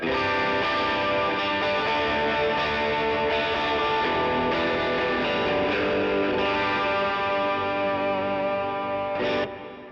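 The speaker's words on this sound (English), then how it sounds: "Right now the boost is going before the overdrive," Distorted electric guitar chords through a boost pedal placed before an overdrive pedal, thick and aggressive with a chorus-like shimmer, played continuously and loud, ending with a final strum cut short.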